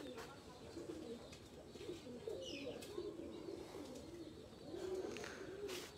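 Pigeons cooing close by in a soft, repeating low murmur, with faint chirps and a brief flutter of wings over a quiet outdoor background.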